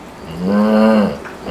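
A voice imitates a bullfrog call, a single deep, drawn-out moan that swells and fades over about a second, heard close and alone with no talking.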